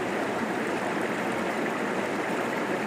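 A river on Dartmoor, a stream once heavily worked for tin, rushes steadily in a dense, even wash of flowing water, close and continuous with no voices.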